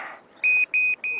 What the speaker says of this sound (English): Oh, super loud buzzer.